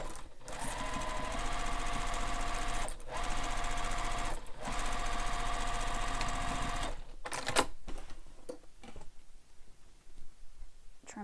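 Sewing machine runs long basting stitches joining two pieces of a beach bag, a fast steady mechanical whir broken by a couple of short pauses, then slowing and stopping near the end, close and alone.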